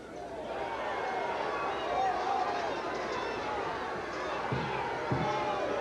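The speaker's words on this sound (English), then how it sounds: "Crowd reacting because Miller and Small were mixing it up at the end of the play" At a 1986 high school state championship football game, the crowd roars and murmurs after players Miller and Small scuffle at the end of a play, a broad continuous swell of distant voices with a few thumps near the end.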